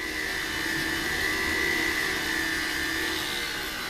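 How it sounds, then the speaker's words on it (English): Jewelry is smoothed on a spinning white buffing wheel, producing a steady, close whirring motor hum with a sustained high-pitched whine and no breaks or voices. "If I get these all smoothed out with this white wheel"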